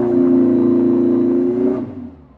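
Honda K20A2 engine in an EK Civic screaming at full throttle on a dyno, a loud, steady high-rpm drone that cuts off abruptly near the end and falls away.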